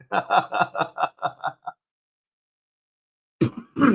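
A voice talks briefly, falls silent, then a close, abrupt cough follows, in two quick rough bursts.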